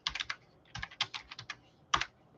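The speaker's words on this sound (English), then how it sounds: "Let's see if I can type something in here." Keys tapped on a computer keyboard in short, uneven bursts of sharp clicks, close and clear against a quiet background, with a final louder keystroke.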